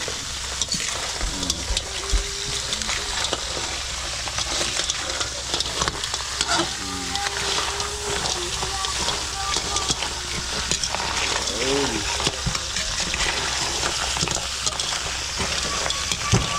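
Crab sautéing with Sprite in a pan, a steady loud sizzle and frying hiss with occasional stirring scrapes running throughout.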